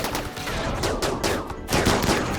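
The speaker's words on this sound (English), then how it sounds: "Buckley, no, you're firing." Colonists firing guns in a Rimworld battle: a dense, overlapping fusillade of game gunshots, rapid and continuous with louder bursts toward the end.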